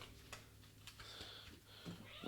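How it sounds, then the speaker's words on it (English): Kittens fighting each other, shrill scattered meows and screeches that come in short bursts over a faint indoor background. "listen to kittens scream because they're attacking each other"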